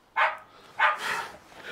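A dog barks twice in quick succession, close and loud, followed by softer yips and whines trailing off.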